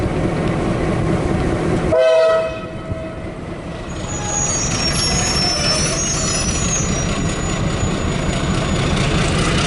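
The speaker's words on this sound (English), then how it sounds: "they always sound the horn for entering the tunnel" A train horn blasts loudly as the train runs into a tunnel, over a steady heavy rumble of rolling rail wagons and engine that continues after the horn fades.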